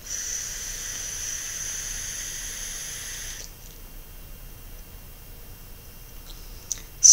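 Steady airy hiss of a direct-to-lung draw through an SXK Nebula TD top-deck RTA tank on a single coil at 32 watts with airflow half open, lasting about three seconds and then fading to quiet with a faint click at the end.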